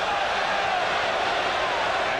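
Basketball arena crowd at a 1991 NBA playoff game, Chicago Bulls at Philadelphia, roaring in a steady, dense wash of voices that fills the whole moment without a break.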